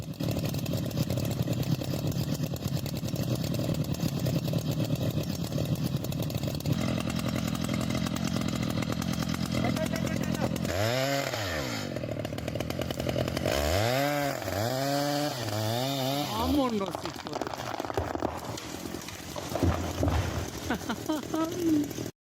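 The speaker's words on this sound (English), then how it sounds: "The worker approaches, gripping the chainsaw firmly" A chainsaw roars steadily while cutting into a large tree trunk in a forest, its engine note rising and falling through repeated revving surges near the end, loud and close throughout.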